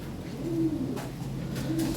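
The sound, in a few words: Lahore siraji fancy pigeons cooing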